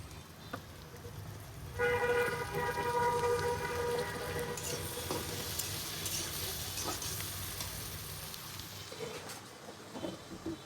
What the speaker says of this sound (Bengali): বড় বড় চিংড়ি অনেকগুলো দিয়ে দিচ্ছি আর এগুলোকে কিছুক্ষণ ভাজলাম